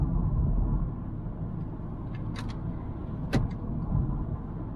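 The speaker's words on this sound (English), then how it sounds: "Engine's sitting lovely, feels smooth as you like" A BMW car's engine runs while driving, heard from inside the cabin as a steady, low rumble with a few brief clicks.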